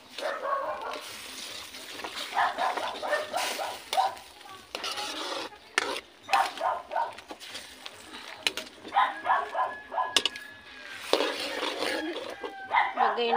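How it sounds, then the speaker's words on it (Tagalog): Dogs bark repeatedly in the background over running water and kitchen clatter, with people talking nearby. "Ingay-ingay ng mga aso."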